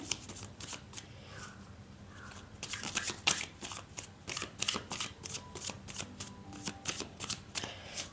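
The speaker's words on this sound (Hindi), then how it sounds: "Final shuffle." Tarot cards are shuffled close to the microphone in quick repeated riffling bursts, getting busier and more rhythmic in the second half, with no voice over them.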